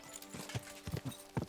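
Horse hooves clip-clopping at a walk in Kingdom Come: Deliverance II, a handful of uneven, close thuds in quick succession with faint background ambience.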